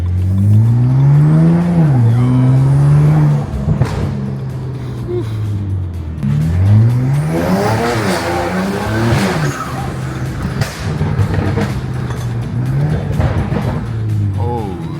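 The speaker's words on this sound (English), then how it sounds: "I'm gonna drive the car around the block and see if I can get it to start misfiring right now." A BMW 335i, driven around a block while being checked for a misfire, revs loudly and close, its engine note rising and falling in repeated sweeps with tire squeal and no talking.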